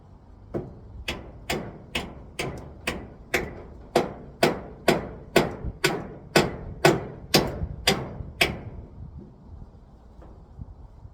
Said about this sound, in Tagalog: Ayan yung martilyo.